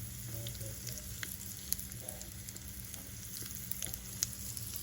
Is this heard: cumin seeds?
yes